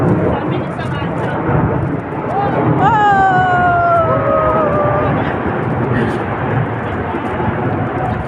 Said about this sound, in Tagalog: Uy, may aeroplano! Ayun, ang laki oh!